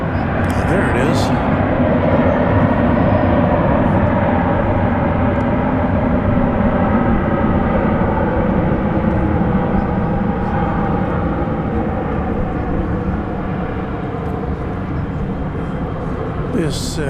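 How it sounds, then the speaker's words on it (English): Airbus A321 airliner on a flight to SFO passing at DFW Airport at night, a loud sustained engine rumble holding steady throughout, with faint clicks at the start and end. "This Airbus A321 is going to SFO, the city adjacent to the bay."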